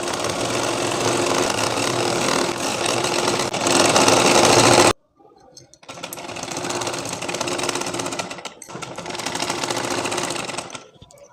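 A sewing machine stitches the folded round hem of a tulip palazzo trouser. It runs in one long loud burst, stops abruptly, then runs in two more steady bursts with a short pause between them.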